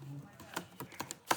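A few quick keystrokes on a computer keyboard while coding a web page, faint clicks spaced irregularly over a brief moment, with a low hum and some soft speech sounds in the background.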